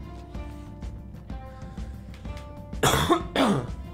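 Two loud, harsh coughs break out near the end, following a stretch of quiet, hum-like background with faint clicks.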